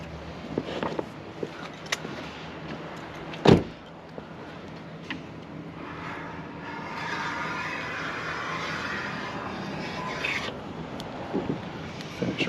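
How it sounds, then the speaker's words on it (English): A WRD Pro Scraper fitted with a Stingray blade works its way down the edge of a painted pillar, a soft, close, continuous rasping scrape broken by a sharp knock and several small clicks. "the Stingray blade is real nice for down these pillars. You can see how it just rolls and rides that edge all the way down"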